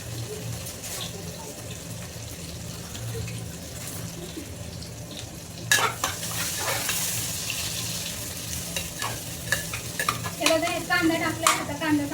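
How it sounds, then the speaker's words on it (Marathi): Onions frying in oil in a pot while being stirred, a steady close sizzle with scraping and clatter of a spoon against the pot growing busier midway, a low hum beneath. "कांदा टाकलाय, आता कांदा चांगला परतवते."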